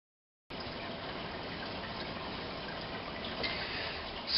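A Contech Rainforest Eco sprinkler sprays water in a backyard, a steady close hiss of spray that starts abruptly after a short silence and swells slightly toward the end.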